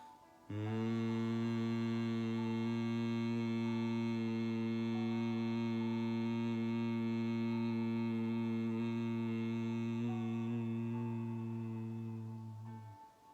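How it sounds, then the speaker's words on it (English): A steady, sustained human hum during yoga breathing, low and buzzing like a bee, held for about twelve seconds without a break, close and fairly loud. "you're going to make a humming sound like a bee"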